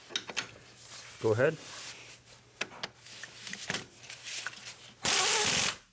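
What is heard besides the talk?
socket ratchet tightening VW Passat transmission mount bolts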